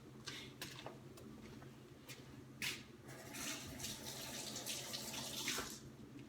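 Running tap water splashes steadily into a kitchen sink as a zucchini is rinsed under the stream, with a few brief knocks and clatters over the constant flow.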